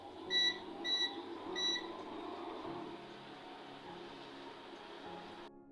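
An induction cooker beeps three quick times as it is set for cooking biryani, short, faint electronic tones followed by a low steady hum.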